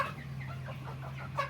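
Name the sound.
tiger chickens clucking on a farm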